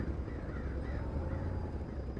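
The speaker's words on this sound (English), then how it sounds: "One right here, crows." Crows cawing in snowy weather in the video game Kona: a few harsh caws sound at mid distance over a constant wind-like rush, with no talking.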